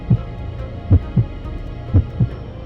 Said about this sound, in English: My heart pounded.